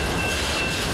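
A CPKC freight train bound for Hayman, Indiana, rolls past on the rails in steady, loud broadband rumble with a constant wheel roar, no talk over it.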